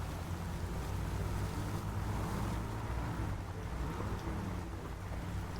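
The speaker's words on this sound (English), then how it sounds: "I see that it's rainy and muggy here" Rain in the SnowRunner video game, a steady hiss of falling rain with low rumbling beneath, constant and moderately loud from start to end with no talk over it.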